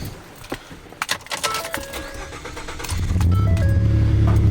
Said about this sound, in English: I know it's a V6, and I know it sounds a little bit odd with a 4-inch exhaust